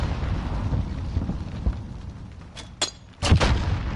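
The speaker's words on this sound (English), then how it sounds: "Oh, he gets him with the nade." A grenade goes off in a Call of Duty 2v2 Gunfight tournament match, one sharp blast followed by a louder, heavier boom, standing out over quiet game ambience.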